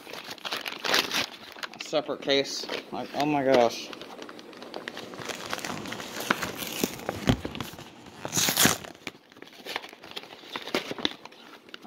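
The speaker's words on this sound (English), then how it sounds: "See how it's wrapped up in, like, plastic paper?" Plastic wrapping crinkles and crackles on Beavis and Butt-Head movie cases being unboxed, coming in bursts between stretches of close conversational talk.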